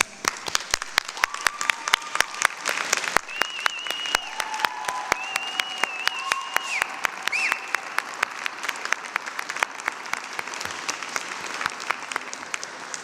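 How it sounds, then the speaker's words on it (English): A convocation hall full of university graduates claps for their families, a steady dense applause with sharp individual claps standing out, while brief whistled or sung tones float over the middle of the ovation. "give them a big round of applause for all that they have done for us"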